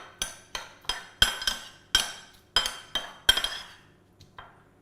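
Ginger and spring onion marinade being stirred in a bowl for Asian lamb: a series of sharp clinks of a utensil against the bowl, eight or so strikes at an uneven pace, close and fairly loud, fading out near the end.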